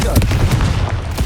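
A burst of booming fire-spell explosions from the Confringo spell in Hogwarts Legacy, loud and close, with several rapid blasts overlapping a shouted spell incantation.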